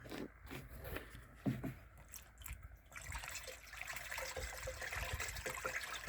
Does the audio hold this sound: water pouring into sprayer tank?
yes